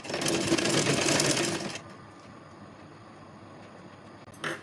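An electric sewing machine stitching the lining of a kurti runs loud and steady for under two seconds. It then stops, leaving a low hum and a brief burst near the end.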